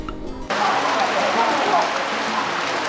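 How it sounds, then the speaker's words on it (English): Steady rain begins abruptly after a brief pause and then pours continuously, a dense, close hiss of drops on surfaces in an outdoor scene of a Ghanaian Twi film. "It is raining."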